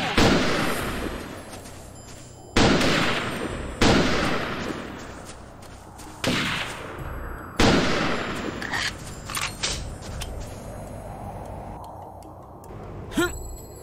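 Sniper rifle shots in the Second Sight game ring out as several sharp, loud cracks spaced a couple of seconds apart, each trailing into a rumbling echo, followed by smaller clicks and impacts.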